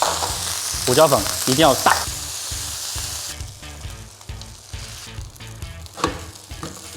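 Oyster omelette batter with salt and pepper frying in oil and lard in a wide pan, a steady near sizzle running under a person's talk throughout.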